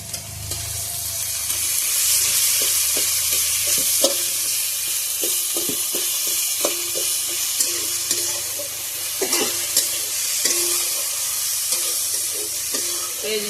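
Fish heads and cumin seeds fry in a little oil, giving a dense, close sizzle broken by repeated clicks and scrapes of a spatula stirring in the pan.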